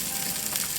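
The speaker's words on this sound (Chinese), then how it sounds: "我们来煎蛋。" An egg fries in a pan, a steady close sizzle with fine crackle holding evenly throughout, no voices.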